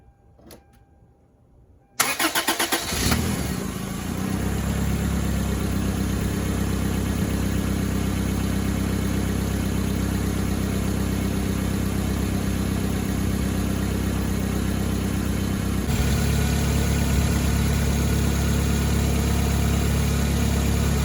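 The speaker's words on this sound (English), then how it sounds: "it's time to start your engine and open up your heat to the maximum" A car engine cranks and catches after a quiet moment, then settles into a steady idle with the heater at maximum while coolant circulates, shifting slightly in tone near the end.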